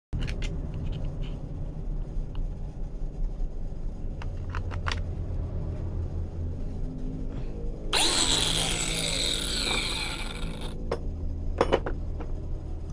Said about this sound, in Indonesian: saya memutuskan untuk menggerinda mengasah obeng yang saya punya